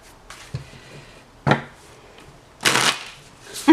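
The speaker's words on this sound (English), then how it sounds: "Let's give these a shuffle" Lenormand cards are shuffled in short bursts, a few soft riffles and slaps followed by a louder, longer flurry near the end, close and clear with no talking.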